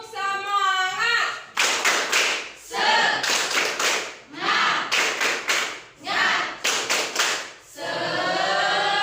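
Group of people doing a rhythmic 'tepuk semangat' ice-breaker clap, sharp patterned bursts of clapping in short repeated phrases, with a voice speaking briefly before the claps start.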